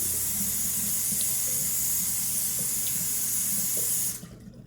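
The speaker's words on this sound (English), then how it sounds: "Quick rinse of the alum off." Tap water runs steadily into a sink while alum is rinsed off a face during a shave, a close continuous hiss that cuts off abruptly near the end.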